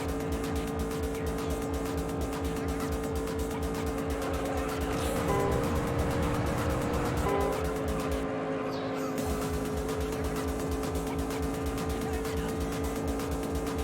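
A Mazda MX-5 engine in the racing video game Juiced drones steadily through laps, its pitch rising and falling with gear changes, with a voice talking over it at times.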